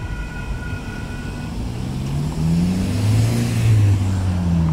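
A heavy Union Pacific grain freight train's locomotives rumble past at close range at a road crossing, the low engine drone growing louder and rising in pitch toward the end.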